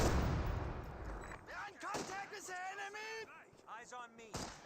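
MG42 machine gun fire in the Company of Heroes 2 video game: bursts of gunfire crackle through a busy battle mix, with someone talking over them.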